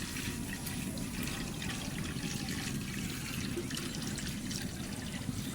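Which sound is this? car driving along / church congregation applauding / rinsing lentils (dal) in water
rinsing lentils (dal) in water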